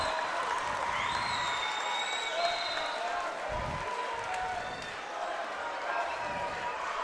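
An arena crowd at a high school boys' regional championship basketball game roars with sustained noise and scattered clapping, while a commentator talks over it.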